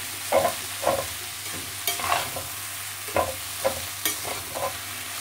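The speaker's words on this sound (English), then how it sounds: "mixed vegetables. And I'm going to fry this for about a few seconds." Mixed vegetables frying for fried rice, a steady sizzle punctuated by repeated close scraping stirs of a utensil against the pan, about one every second.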